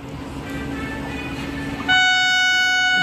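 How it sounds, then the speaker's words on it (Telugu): A Tirupati to Secunderabad Vande Bharat Express rumbles past a halted train at Sattenapalli, a loud steady roar joined near the end by a sustained blaring horn. "తిరుపతి నుంచి సికింద్రాబాద్ వెళ్ళే వందే భారత్ ఎక్స్ప్రెస్"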